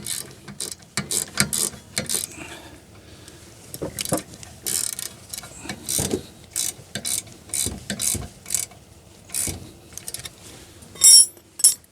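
A ratchet runs down the rear brake caliper bolts on a 2017 Chevy Cruze, giving many quick clicking bursts in an uneven rhythm, close and fairly loud, with a few sharper metallic clinks near the end and no talking.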